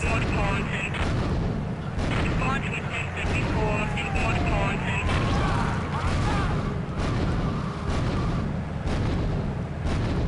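Repeated turret gunfire in GTA 3, a run of loud sharp bangs and booms spread through the stretch, with a voice talking over the shooting.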